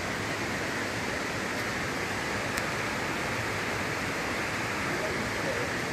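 Water rushing hard at Khandadhar waterfall, a steady loud broadband roar filling the whole stretch without a break.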